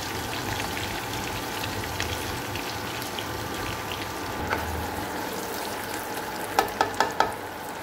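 Sliced onions browning in hot ghee for a korma, a steady low sizzle with soft bubbling, followed near the end by a few light clinks of a utensil against the pan.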